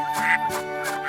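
Ducks quack repeatedly in the video game Baten Kaitos, a few nasal calls in quick succession, loud and clear with no voices.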